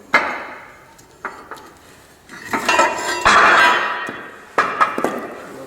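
Metal plate clanking and scraping as it is set down on square steel tubing during a Kubota diesel hot pressure washer build, several sharp metallic knocks with a longer rattling contact in the middle, close and fairly loud.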